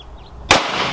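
A single large-caliber gunshot goes off mid-clip, a sharp, very loud blast after near quiet, with a rumbling decay trailing away outdoors.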